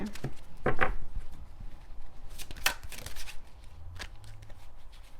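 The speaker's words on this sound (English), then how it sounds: "let's pull 3 cards for Gemini" Tarot cards shuffled and pulled by hand, heard as close, soft riffling and flicking with papery slaps and a few sharp snaps, alone without talk.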